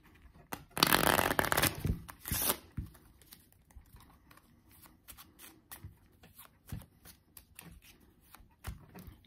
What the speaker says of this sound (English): I would start by having the spectator shuffle the deck